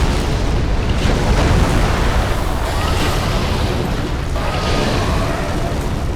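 Loud, heavy booming impacts from ballista shots striking a creature at Smouldering Lake in Dark Souls III, a dense rumbling roar that swells and surges throughout with no clear breaks.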